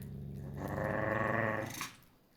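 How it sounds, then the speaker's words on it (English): A creature called Loken lets out a low, sustained growl that swells for about a second and then fades, close and alone with no talk. "Will you stop growling at me?"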